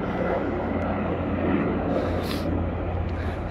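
A rescue helicopter passes overhead on a mountain, its engine a steady, loud broadband roar that holds for several seconds without letting up.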